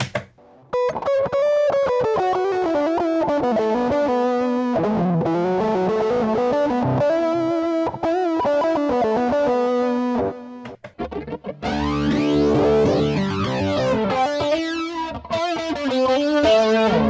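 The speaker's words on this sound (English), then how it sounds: "I guess it's using the pitch modulation on here and some extra distortion or something" A Digitech RP80 guitar effects pedal runs a preset with pitch modulation and distortion, producing a loud, sustained distorted guitar line with warbling, shifting pitch that continues without talk for the whole stretch.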